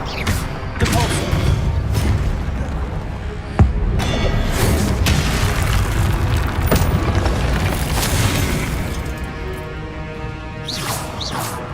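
Magical spell effects from Hogwarts Legacy sound out: a deep booming blast with a sharp thump, then whooshing and rumbling that fade over several seconds, close and loud.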